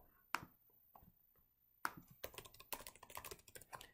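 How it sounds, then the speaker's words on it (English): Typing on a computer keyboard while filling in a home inspection report form: a few isolated key taps, then a quicker run of clicks toward the end, close and fairly faint, with no talking. "And I can manually type something in here if I wanted to as well."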